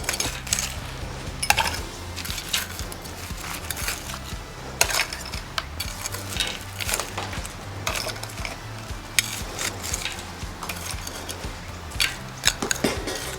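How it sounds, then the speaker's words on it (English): Crushed ice tumbling into a glass for an organic gin cocktail, a run of sharp clinks and crunchy rattles with scattered louder knocks, close by and with no talking. "in with the crushed ice."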